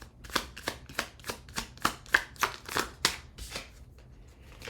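Tarot cards are shuffled in a run of about ten crisp, evenly spaced riffling bursts, close and fairly loud, with no talk over them.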